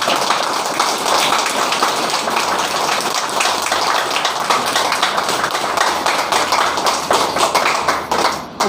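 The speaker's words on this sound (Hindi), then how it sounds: "ऊपर वाला के लिए कितना जोर से ताली बजाना है अपने हिसाब से बजाना" Hands clapping steadily through a family gathering in Ranchi district, a continuous patter of many people applauding at once, loud and close with no speech.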